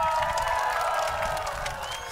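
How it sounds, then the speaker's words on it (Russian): An audience at EcoFest 2018 applauds as the SkyWay chief designer is introduced. Dense, sustained clapping mixes with some cheering for about two seconds, close and continuous. "Ваши аплодисменты!"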